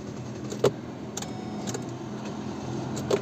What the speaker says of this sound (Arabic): اشتغل السيارة طبيعي